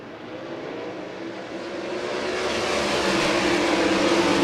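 Sprint cars racing on a speedway, a loud whining engine roar building steadily as the cars power down the back straightaway, with no voices.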